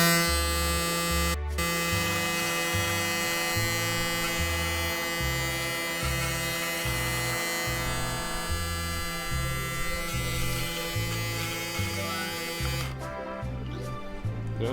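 A Nateskin electric trimmer buzzes steadily and close throughout, with a rhythmic pulsing as it moves over skin, briefly interrupted near the start and end.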